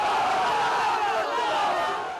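An angry crowd protesting in Afghanistan after civilian deaths, a dense, continuous roar of many shouting voices, loud and close, easing slightly toward the end.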